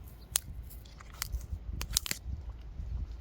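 Crisp, close crunches come from biting into a raw, bitter vegetable fresh from an Italian autumn garden, a few sharp snaps followed by softer chewing crackles, without speech.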